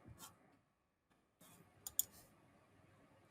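Computer mouse clicks while editing text, with a few sharp, faint, close clicks including a quick double click amid near silence.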